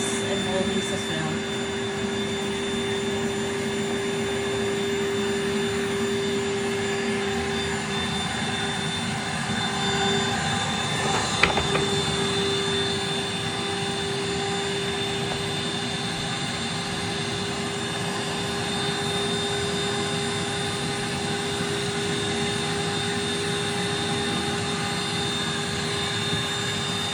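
Rainbow vacuum cleaner running during a demonstration, giving a steady, unbroken motor drone with a constant hum throughout and one brief knock near the middle.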